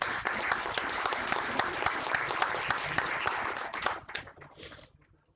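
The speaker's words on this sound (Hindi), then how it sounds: "जोरदार तालियों से स्वागत कीजिए।" Loud, sustained applause from an audience welcoming a guest at a session of a national event on Indian languages, steady crowd clapping that fades out near the end.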